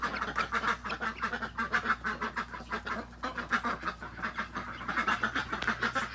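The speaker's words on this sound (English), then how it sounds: "Looks like the guineas are also hungry too." A flock of guinea fowl calls at a homestead in the morning, a rapid, continuous, nearby chorus of harsh, rhythmic squawking chatter with no talking.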